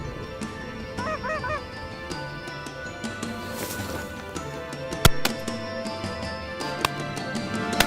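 A flock of speckled geese (specklebellies) honks in flight over an evening waterfowl hunt. Their chattering calls carry through steady background noise, with a couple of sharp cracks later on.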